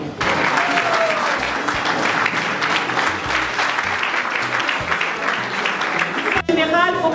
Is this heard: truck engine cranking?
no